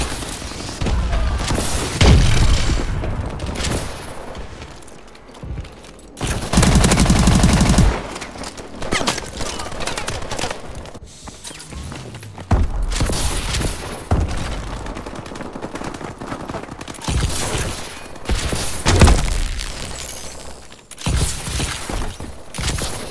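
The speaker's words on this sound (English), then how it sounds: "Enemy missile strikes." Enemy missile strikes and heavy gunfire in Call of Duty Advanced Warfare, loud booming blasts and sustained automatic fire rolling in waves, dense and close throughout.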